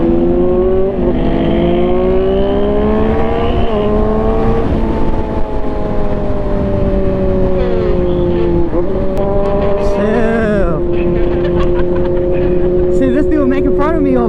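Yamaha R6 sport bike with a GPR stabilizer on a test ride, engine droning steadily and rising and falling through gear changes, with other riders' engines nearby and wind noise throughout.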